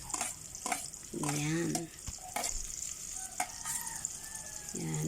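Garlic hitting oil in a frying pan while being stirred for a Filipino ginisa base for mussels, a steady hiss broken by spatula scrapes and knocks, with a brief spoken word.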